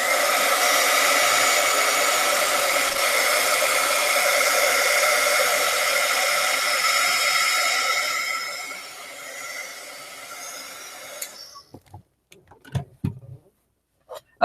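A hair dryer blows steadily at close range for about eleven seconds while drying a watercolor painting, then shuts off and winds down, followed by a few faint clicks and taps.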